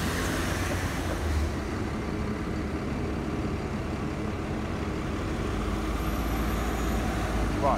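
A city bus engine idles and rumbles in tight traffic beside a Range Rover, a steady low, close drone that holds without a break and with no talk over it.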